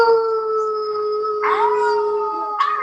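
Several people join together in an imitated wolf howl, their voices holding long sustained wavering tones that slide and layer, with a couple of fresh voices breaking in near the end.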